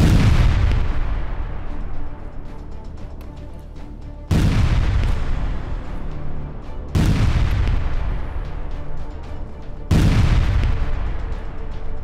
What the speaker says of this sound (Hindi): इजरायल के विमान किस तरह से गाजा पर बमबारी कर रहे हैं ये आप देखिए।